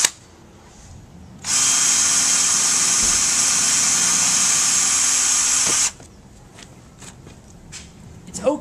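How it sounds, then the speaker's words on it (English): Power drill boring straight down through a pipe for a homemade Quidditch hoop, one loud steady whine of about four seconds starting and stopping abruptly, with quieter handling noises and faint rustling before and after. "And we're just going to drill straight down through."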